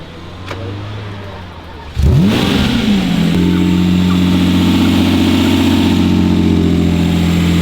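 A Lamborghini Murcielago engine roars as it is revved, rising sharply, then settles into a loud, steady drone close by; the engine has a leak.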